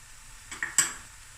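Turmeric masala and paprika are stirred in a cooking pot: a short, close clatter of a utensil knocking against the pot, two quick metallic taps over a faint sizzle.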